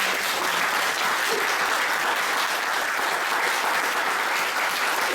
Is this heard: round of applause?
yes